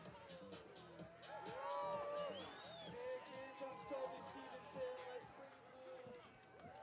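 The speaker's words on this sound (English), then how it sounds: "The crowd is pleased. Love hearing the roar." A large outdoor crowd at the Kings & Queens of Corbet's ski event roars and cheers steadily, with whoops and whistles rising and falling under a sustained wash of noise.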